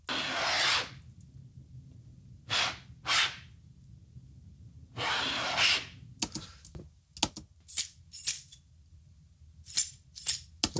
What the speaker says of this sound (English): Here I dragged my keys on this table.